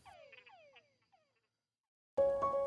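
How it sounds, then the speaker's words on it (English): Recorded frogs or toads croaking in a short series of rising, chirping calls that fade out over about a second, then silence, then a louder burst of different sound begins. "have sounds of frogs or toads that you recorded there"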